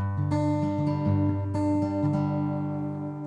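An acoustic guitar plays a finger-picked pattern of a song at full speed, with clear, ringing plucked notes in a steady rhythm, close and alone, with no talking.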